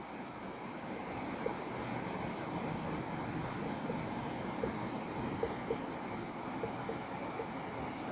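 Chalk or marker scratching on a board in a Sanskrit class, a steady run of soft strokes heard close beneath faint room noise with no clear talk.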